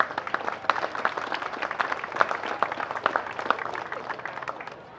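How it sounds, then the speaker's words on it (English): An audience at a women's Premier League football semi-final between Port Adelaide and Seacliff claps for coaches and managers, a moderate, fairly close patter of many hands that runs steadily and tapers off near the end. "So a very big round of applause for coaches and managers"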